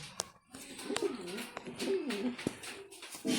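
A Kamandali pigeon coos in soft, repeated low warbles, with a few sharp clicks and rustles in the background.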